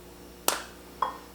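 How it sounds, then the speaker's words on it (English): A 4-ounce dark chocolate candy bar is snapped by hand, giving one sharp crack followed by two smaller snaps, close and clear in a quiet room. "This is a 4-ounce candy bar, so I'm just gonna break it in half"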